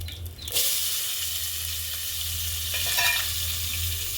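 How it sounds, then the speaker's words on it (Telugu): Cumin seeds and onions frying in oil in a pan over a wood-fired stove, giving a steady, close sizzle and hiss that runs the whole time with no voices. "నూనెలోనే కొంచెం జీలకర్ర, ఉల్లిపాయలు,"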